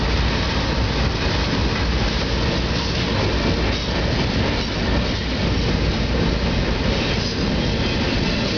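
An old BNSF freight train with its locomotive passes close by as a dense, steady rumble and rattle of rolling wagons, with wheel squeal and rhythmic clatter, loud and continuous with no talking.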